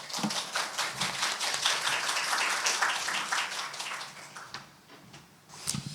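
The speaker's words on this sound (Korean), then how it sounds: "자 그러면 박수로 맞아주시기 바랍니다" Audience clapping welcomes an invited neuroscience speaker at a gender-innovation science forum, a dense, fairly steady patter of many hands that thins toward the end, with a few louder single claps near the close.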